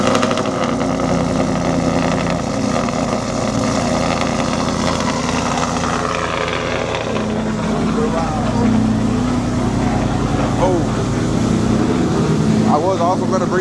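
Truck engine fitted with a Whipple supercharger, running loud and steady close by, a continuous rumbling drone with a voice talking over it.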